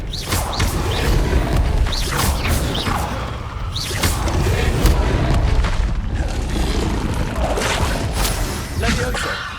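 An Expelliarmus spell is cast in the video game Hogwarts Legacy, with booming impacts, whooshes and crashes erupting in repeated bursts over continuous game noise.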